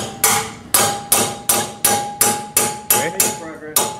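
A Park Tool RT-2 race removal tool being hammered out of a steering stem, giving nine sharp metallic strikes in an even, steady rhythm, each ringing briefly before the next blow.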